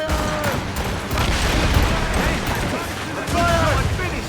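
Cannon fire in a naval battle in the Assassin's Creed Rogue video game: a sustained roar of booming shots and rumbling blasts that fills the clip, with shouted voices over the battle.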